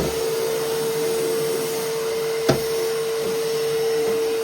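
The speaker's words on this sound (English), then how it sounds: "You should put like a light on the end of a vacuum cleaner, right?" A vacuum cleaner runs continuously while sucking up dust in a basement being cleared around its foundation, a steady motor whine with a strong tonal hum and one sharp knock partway through.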